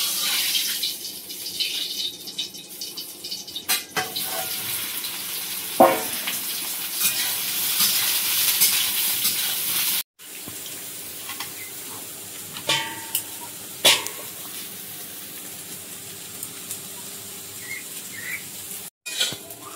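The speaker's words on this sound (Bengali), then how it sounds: "কড়াই তেল দিলাম, সয়াবিনটা ভালো করে একটু ভেজে নেব।" Soybean chunks fry in oil in a wok with a continuous bright sizzle, broken by scattered clinks and stirring scrapes at a steady close level.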